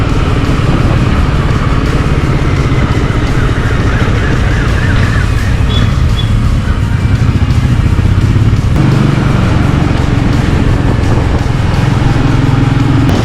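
A Royal Enfield Interceptor 650 motorcycle ridden through Kolkata city traffic, its engine droning loud and continuous up close, with surrounding traffic noise and a siren-like wail mixed in.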